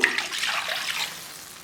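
Water pours into a kadai while semiya kesari is being made, a brief hissing splash that fades quickly over a second or so.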